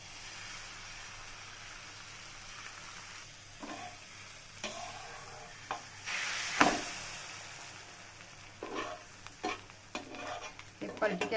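An egg and spinach roll fries in a pan, giving a low steady sizzle with intermittent scraping and clattering from a spatula as it is turned. No one speaks.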